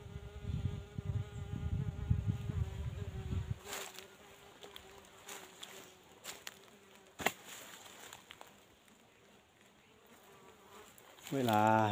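Insects, likely bees, buzz faintly around a bird caught in a trap outdoors, a steady low drone with scattered clicks and rustles and a louder burst near the end.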